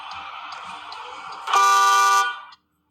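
The dual horn of a 2022 MG ZS EV gives one firm, loud honk lasting under a second, its two blended tones sounding close, after a steady low hum.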